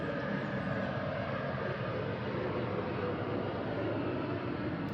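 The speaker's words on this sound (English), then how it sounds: "okay, airplane." An airplane passes overhead as a steady, loud broadband roar that fills the whole clip without breaks, with no talking over it.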